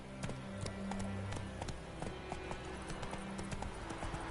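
Roach, the horse in The Witcher 3, trots along with steady, rhythmic clip-clopping hooves under a continuous low game background, moderately close.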